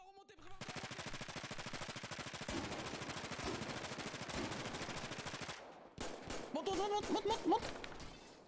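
Rapid automatic gunfire in a video game shootout at a police roadblock, a long dense burst of near, loud shots followed by scattered crashes and clatter, with a voice briefly heard.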